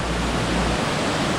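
Water pours steadily from a big, high outlet at a waterworks in wintry Kashmir, its fall partly frozen by the cold, making a loud, unbroken rushing roar close by with no voices.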